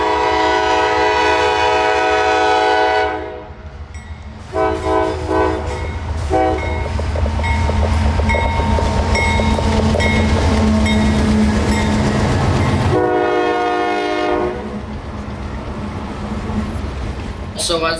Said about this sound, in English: They gave me a bunch of horn shows at every single spot